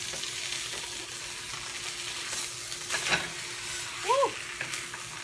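A beef and cheese quesadilla sizzles in a pan just after being flipped, giving a steady close frying hiss with a few brief clinks and scrapes on top.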